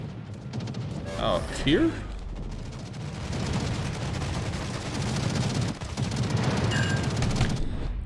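Naval gunfire from warships in World of Warships, a dense rumbling run of cannon booms and blasts, sustained and loud, with brief talk over the top.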